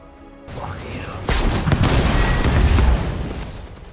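A gunfight in an action film: a rumbling, booming burst of shots and blasts rises after a short quiet start, loud and dense with low-end thuds, then eases off toward the end.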